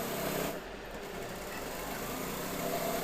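A sewing machine stitching lining onto a blouse panel, running in a steady continuous whir at close range with a brief pause near the start, no talking.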